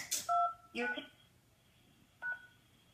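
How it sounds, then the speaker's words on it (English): Touch-tone phone keypad beeps as a PIN is keyed in, three short dual-tone presses spaced apart with quiet gaps between them, clear and close with no talking. "Your touch-tone phone. Please enter your PIN number."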